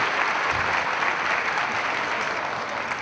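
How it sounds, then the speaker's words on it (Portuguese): An audience at a talk on love and sex breaks into sustained applause, a thick, even wash of many hands clapping with no voices on top. "Pode aplaudir, gente, pode aplaudir."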